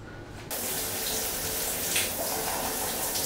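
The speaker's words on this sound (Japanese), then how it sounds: "体もベトベトしてるんで早くシャワー浴びてスッキリしていきます" Steady shower water running in a public facility at Haneda Airport, a continuous close spray that starts abruptly after a half-second of quieter room noise and then holds at an even level.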